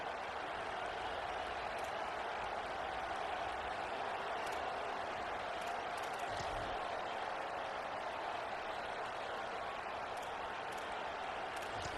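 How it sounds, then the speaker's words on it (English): Steady, dense roar of a stadium crowd in the College Football 27 video game, a broad continuous wash of cheering and noise held at an even level throughout with no talk over it. "This crowd trying to show them what it's going to be like all day in this house."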